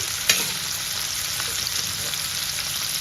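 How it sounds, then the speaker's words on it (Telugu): Onions and tomatoes frying in oil in a pan give a steady, close sizzle, with one sharp clink near the start and faint stirring scrapes underneath. "ప్యాన్లో ఆయిల్ పోసుకొని ఆనియన్స్ టమాటాలు మంచిగా గుజ్జు గుజ్జు చేసుకోవాలన్నమాట"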